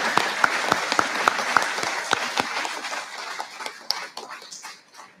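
Sharp, irregular claps ring out at a memorial celebration, a small audience's applause that thins and fades toward the end, with a dog whimpering and barking among the clapping.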